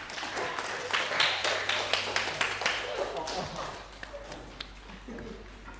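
A burst of classroom applause for a student group in a network-cabling lesson rises loud and dense for a few seconds, then thins to a few scattered claps, with a low hum beneath.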